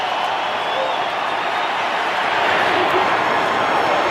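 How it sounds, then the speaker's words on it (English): Stadium crowd at a Steelers at Broncos football game, a dense continuous roar of cheering that swells slightly toward the end, with no clear talk over it. "now you got the crowd back into it"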